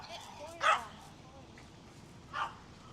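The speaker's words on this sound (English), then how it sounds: "I'm glad those dogs are protecting their mommy." Two short dog barks ring out from a distance on a busy street in West Hollywood, Los Angeles, at roughly one-and-a-half-second spacing, amid steady outdoor background noise.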